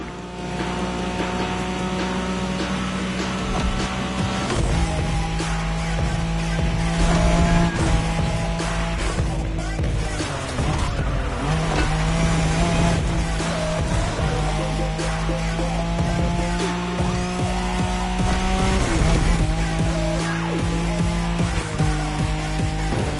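A Nissan Skyline race car in The Crew Motorfest roars steadily under loud music. Engine tones rise and fall as it shifts, and tires skid briefly.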